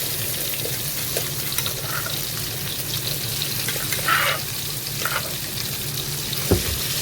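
Fermented fish paste stir-fries in hot oil with tamarind water, a steady close sizzle and bubbling with occasional scrapes and clinks of the spatula in the pan.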